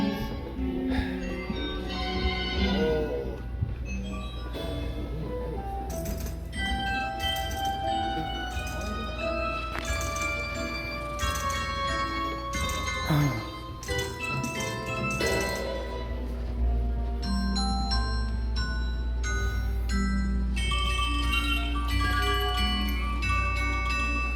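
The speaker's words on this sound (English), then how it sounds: "When I mentioned, Rick, when I mentioned the Deegan shaker chimes, that's a full set of them." A full set of Deagan shaker chimes plays inside an automated music machine at the House on the Rock, ringing bright, rapid metallic tones within a loud, busy mechanical ensemble that continues throughout.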